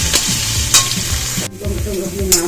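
Chopped ginger, garlic and green chili stir-fried for a momo filling, with a steady loud sizzle and repeated scraping strokes of the spatula in the pan; no talking.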